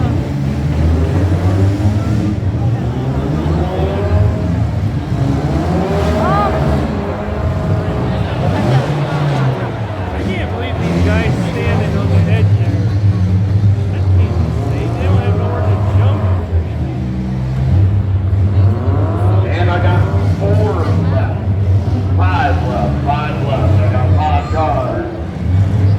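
Demolition derby cars at a county fair in Wauseon, Ohio, drone and rev continuously under a busy mix of crowd hubbub and announcer talk. Engines rise and fall through a loud, dense outdoor din.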